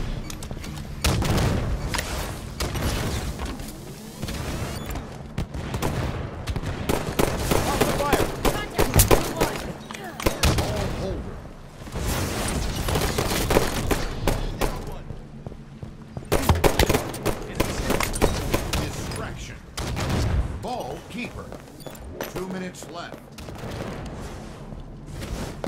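Sustained gunfire in a Halo 5 multiplayer match, with repeated automatic bursts and heavier booms over about half a minute, while players talk excitedly throughout.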